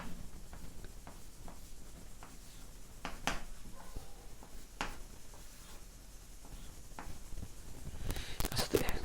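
A pen scratches steadily across paper while chemistry notes on aldehydes, ketones and aromatic hydrocarbons are written out, close and quiet, with soft irregular strokes and occasional taps, no talking.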